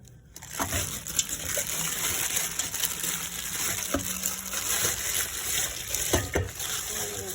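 Tap water runs and splashes steadily as beef feet are rinsed by hand in a sink, with intermittent knocks and handling noises close by.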